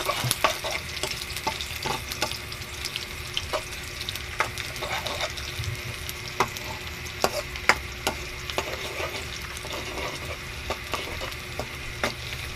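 Garlic frying in oil for adobo is stirred with a utensil, steady sizzle under repeated sharp scrapes and knocks against the pan, close and fairly busy, with no voices.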